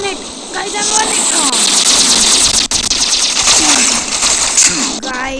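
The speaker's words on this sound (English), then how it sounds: "If you shoot them into the back and they will die." Gunfire from a shooting video game rattles steadily throughout, with rapid shots and bursts over busy game sounds while a voice talks over it.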